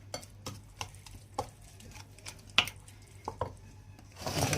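A spoon scrapes and taps in a pan as onion powder and garlic powder are stirred together for hawawshi, with quiet irregular clinks, then a louder rustle near the end.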